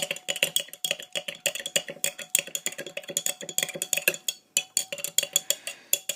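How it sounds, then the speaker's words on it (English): A spoon stirs creatine into a glass of warm water, clinking rapidly and repeatedly against the glass in a steady, close, bright rhythm with a short pause partway through. "Give it a stir."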